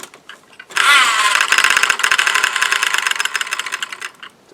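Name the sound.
Piaggio Ciao moped engine running with added variator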